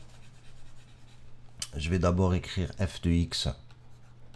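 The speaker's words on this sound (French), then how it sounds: "Je vais d'abord écrire" Brief scratchy strokes of a math expression written by hand open quietly before a voice takes over, with more faint writing sounds falling between his phrases.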